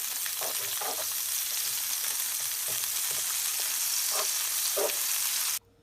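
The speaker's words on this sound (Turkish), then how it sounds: "Eriyen şekerimize 1 yemek kaşığı tereyağı ilave edip bu şekilde tereyağıyla beraber üstünü karıştıralım." A spoonful of butter melts into caramelized sugar in a pan while it is stirred, making a steady sizzle broken by a few scraping strokes, close and unbroken until it cuts off abruptly at the end.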